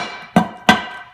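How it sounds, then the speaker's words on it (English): A hammer strikes the differential cover on the independent rear suspension of a 1999–2004 Cobra twice in close succession, each hit a sharp, close metallic tap with a brief ring, with no voices. "just give it a little tap with a hammer"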